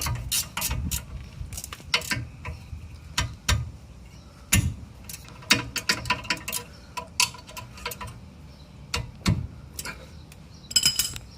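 A ratchet snugging up the 17mm caliper bracket bolts on a 2002 Honda Accord coupe during a brake job, with bursts of quick close metallic clicking and occasional clinks, stopping and restarting.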